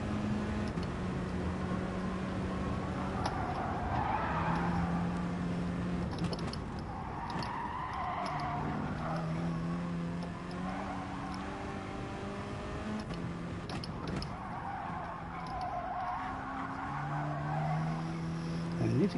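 Race car in the Gran Turismo Sport video game with its engine revving high, a steady whining drone that climbs and falls through gear changes, mixed with tire squeal and faint talk underneath.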